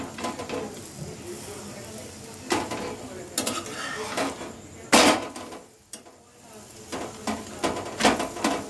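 Vegetables frying in a pan for a home dinner of pumpkin and potato curry with parathas, with stirring and clattering of utensils against the pan over a steady sizzle, and bursts of clatter throughout.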